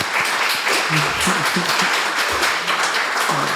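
An audience claps together at the close of a community event, steady crowd applause filling the room throughout, with faint voices murmuring underneath.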